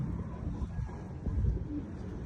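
Racing pigeons coo softly and intermittently in a loft, low murmuring calls layered over a steady background hum, with a slightly stronger burst of cooing midway through.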